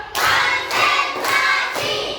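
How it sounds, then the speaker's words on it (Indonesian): A classroom of students doing a cheer-style spirit clap before a morning lesson, several loud bursts of group clapping in an even rhythm, close and without voices. "kita tepuk semangat terlebih dahulu ya"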